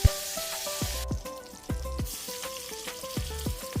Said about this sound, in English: we will go ahead and do the same sear on the rest of these pieces